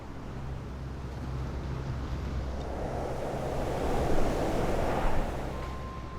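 A low, continuous oceanic rush held to the ear from a conch shell, a soft roaring wash that swells slightly toward the end, with no talking.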